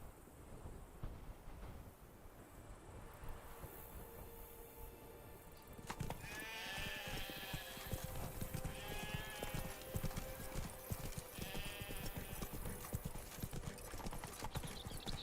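Horse hooves clip-clop steadily at a riding pace in Witcher 3 across Velen, continuous rhythmic clopping that grows louder partway through, with faint background sounds.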